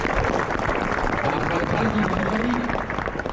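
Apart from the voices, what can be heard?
applause for parkrun volunteers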